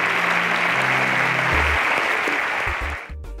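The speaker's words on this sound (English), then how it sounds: "A round of applause for them as they exit the stage." A studio audience at a televised semi-final contest applauds loudly and steadily as contestants leave the stage. The dense clapping holds throughout, then fades at the end.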